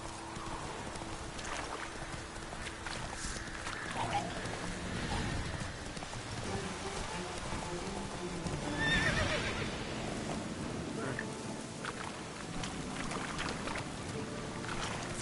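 Roach, Geralt's horse in the video game The Witcher 3: Wild Hunt, whinnies loudly midway while hooves trot steadily throughout, over a constant wash of rain-like ambience.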